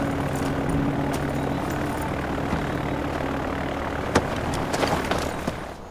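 Airplane engine in the video game Far Cry 4 as the plane prepares to take off, a steady, broad roar holding for the whole stretch with a few small clicks and knocks over it.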